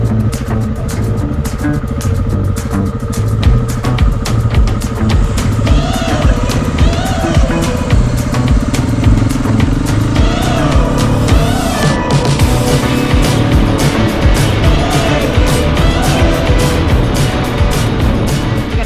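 Motorbike engine on a family ride with a learner rider on a sunny Sunday near Rainbow Beach, a steady close droning roar with rumble and wind under it throughout, never letting up.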